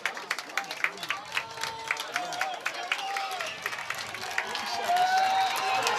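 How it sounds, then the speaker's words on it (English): Crowd at a Class L state semifinal boys varsity lacrosse game between Darien and Staples, with sharp scattered claps swelling into a steady, rising roar of cheering, and voices talking over it. "Crowd getting loud here at Staples."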